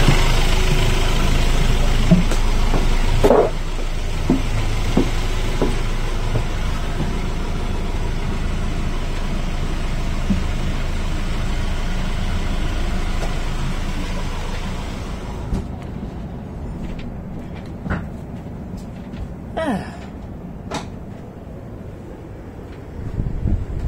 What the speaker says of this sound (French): Donc je peux couper les moteurs